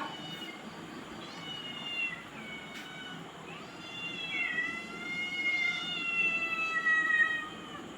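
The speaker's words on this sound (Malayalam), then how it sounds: "ബാ പൂച്ചേ, ബെല്ല ചിക്കച്ചോറ് കൊടുക്കുന്നേ ബെല്ല." A cat meows several times in long, drawn-out, wavering cries, moderately close, over a quiet background hum.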